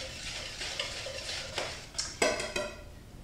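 Flour, baking soda and salt being whisked together in a medium bowl, with a quiet, steady scraping swish and a few sharper clinks of the whisk against the bowl, heard alone.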